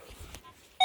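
A Legend WHP metal detector gives a short, loud electronic tone at the end, after faint rustling of digging in soft earth on an old farmstead.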